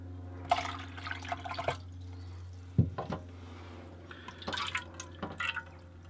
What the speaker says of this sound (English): I'm just pouring it into another bowl